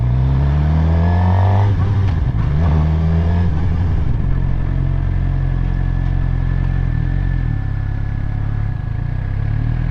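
Suzuki GSXR 600 motorcycle pulling away in first gear, its engine loud and close, a low rumble rising as it revs and accelerates, then holding a steady drone.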